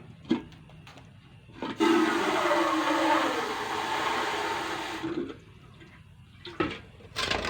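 Water pouring into a cooking pot for steaming sticky rice, a sustained rushing stream lasting a few seconds between scattered knocks and clatters, close and fairly loud.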